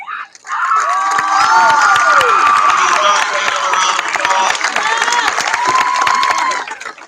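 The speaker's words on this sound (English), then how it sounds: "give yourselves a round of applause." Graduates at a 2022 technical high school commencement ceremony burst into loud, sustained cheering, whoops and applause from a large crowd, filling the space continuously for several seconds before tapering off.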